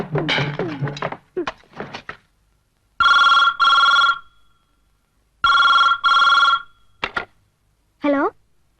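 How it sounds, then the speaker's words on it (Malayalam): A telephone rings in a building-site office scene with two sharp double-ring bursts separated by a short gap, while people talk briefly before and after the rings. "കോൺട്രാക്ടർക്ക് ഫോൺ."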